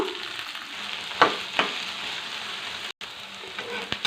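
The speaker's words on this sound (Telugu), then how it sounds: "ఇప్పుడు బెండకాయ ముక్కలండి వేపుకున్నాం" Okra pieces fry in hot oil with a continuous crackling sizzle, broken by a few sharper stirring scrapes and one brief dropout, close and moderately loud.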